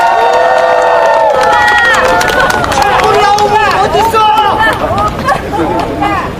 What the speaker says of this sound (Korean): 다시 한 번 더 큰 박수 부탁드리겠습니다